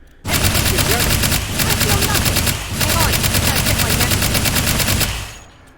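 Sustained rapid automatic fire from an Engie gun emptying a 60-round drum in the VR shooter H3VR, a loud continuous burst with one brief gap before the rattle resumes and stops.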